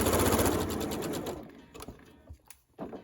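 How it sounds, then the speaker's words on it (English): A sewing machine stitches fabric while adding a zippered pocket, a rapid close mechanical chatter that runs for about a second and a half, then slows into a few separate clicks and knocks. "And I'm just going to sew"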